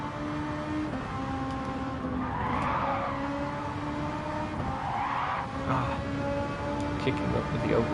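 A race car in an IndyCar racing game skids with oversteer, its tires squealing in two rising swells over a steady engine drone, with a voice talking over it.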